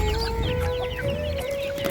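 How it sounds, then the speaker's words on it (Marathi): Free-range country chickens cluck near the microphone as they are let out, a busy overlapping chorus of short clucks and murmurs from several birds, steady throughout. "चला मित्रांनो, आपण आता कोंबड्या सोडणार आहे."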